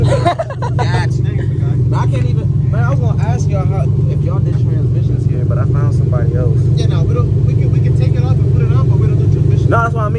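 A Lexus IS350 fitted with PPE headers and a custom exhaust idles and rumbles close by with a deep steady drone, while several people talk loudly over it.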